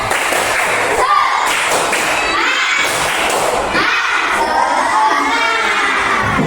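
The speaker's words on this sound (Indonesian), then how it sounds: "Tepuk semangat." Indonesian primary schoolchildren in a classroom perform a spirit clap, a loud, continuous group shout and chant punctuated by repeated rhythmic claps and thumps.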